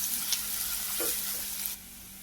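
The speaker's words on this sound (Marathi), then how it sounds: "कांदा आपण परतून घेऊया पहिल्यांदा कांदा आपल्याला चांगला गोल्डन ब्राऊन करून घ्यायचा आहे" Chopped onion sizzling in hot oil in a pan, a steady close hiss that cuts off abruptly near the end, with no voices.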